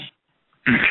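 A short burst at the start, a pause of silence, then a loud, breathy, noisy burst like a sneeze or nose blow close to the microphone.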